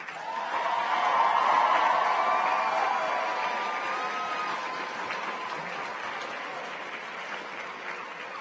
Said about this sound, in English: please join me in thanking our families and staff with a well-deserved round of